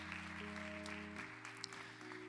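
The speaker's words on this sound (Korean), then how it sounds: "이분들 따뜻한 박수로 축복합시다." A church youth-service congregation claps in warm welcome, a soft continuous patter heard at a distance beneath sustained keyboard or organ chords that shift pitch partway through.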